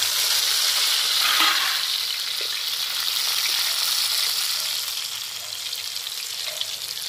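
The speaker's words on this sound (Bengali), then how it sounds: "গরম হয়ে গেছে, এবার কচুগুলো দিয়ে ভেজে নেব।" Taro pieces fry in hot mustard oil with a steady, close sizzle and crackle that runs the whole time, with a faint stir now and then.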